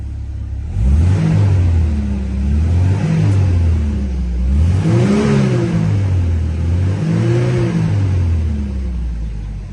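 A Mercedes 190E drives on the road, its engine rising and falling through several revving gear pulls over a steady rumble, close and loud with no talk.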